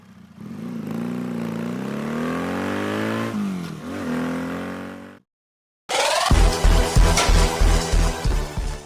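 A Bajaj Freedom 125 CNG motorcycle engine revs with a rising then falling pitch and revs a second time. A brief silence follows, then a loud burst of rhythmic pulsing sound.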